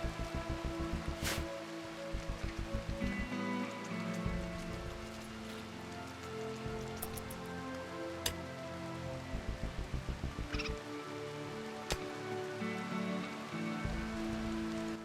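Steady rain falls on a rainy night in the video game RimWorld, a soft, constant patter with scattered brighter drips and occasional sharper ticks, heard faint and alone without any voices.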